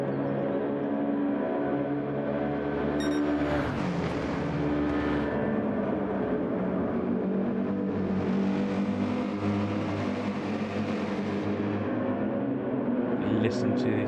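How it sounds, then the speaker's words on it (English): Mercedes race car in Gran Turismo 7 at Monza, its engine droning loud and steady throughout with harmonic tones shifting, under continuous race commentary. "Listen to this mighty Mercedes engine."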